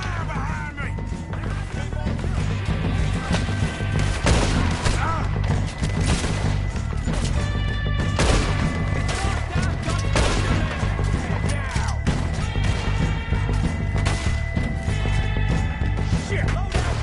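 Dense gunfire in Red Dead Redemption 2, a shootout with O'Driscoll gang members: rapid overlapping shots and cracks fill the whole stretch, loud and continuous, with music and voices underneath.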